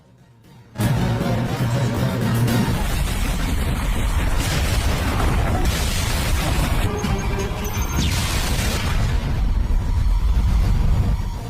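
After a moment of quiet, a loud explosion of a base in the film Triple Threat erupts into a sustained roar of crashing, rumbling debris and blasts that continues to the end.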